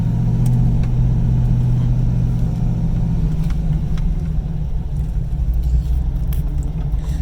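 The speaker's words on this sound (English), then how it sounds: "So slipping the clutch, let me just get around the building here." A car with a big camshaft pulling away while the clutch is slipped, a loud close lumpy engine rumble with an uneven loping beat, steady throughout.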